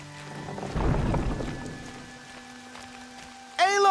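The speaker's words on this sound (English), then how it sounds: "Rain's not so bad." A soft rush of rain patters in the video game Horizon Zero Dawn, with a low rumble swelling early on, steady tones humming underneath, and a sharp bright chime bursting in at the end.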